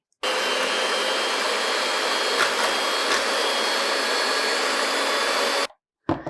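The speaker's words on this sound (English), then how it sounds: "I'm using a hand mixer, and I'm just getting the egg whites a little fluffy." A hand mixer whips egg whites to a foam for keto coconut macaroons, giving a steady, loud motor whine that runs unbroken for about five seconds and then cuts off.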